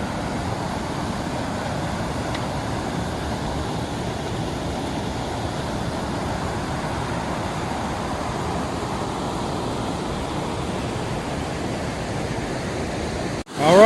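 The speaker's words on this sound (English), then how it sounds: "Alright, here we are down at the waterfall." A waterfall with cascades in a wooded spot among boulders and fall color gives off a steady, full-bodied rush, close and continuous with no voices, until it cuts off abruptly at the end.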